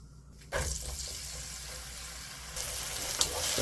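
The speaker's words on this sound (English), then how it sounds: "And we're going to caramelize these onions." Onions drop into hot oil in a pan and start to sizzle, a quiet, steady hiss that begins abruptly and keeps going with a slight rise near the end.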